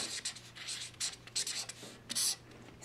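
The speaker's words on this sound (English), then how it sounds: "I'll write my name." Short scratchy strokes of a white Faber-Castell Pitt Artist Pen writing on paper, several quick bursts of nib friction close up and fairly quiet.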